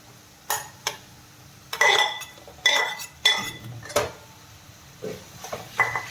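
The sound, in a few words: boiled pasta being added to the pan and mixed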